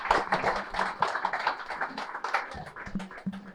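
Scattered hand clapping from a small audience gathered in a prayer hall at a meditation event, moderately quiet and uneven, with a bit of talk mixed in.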